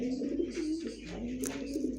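A racing pigeon coos in a low, steady, throaty murmur that rolls on without a break, heard close up with a faint brief chirp partway through.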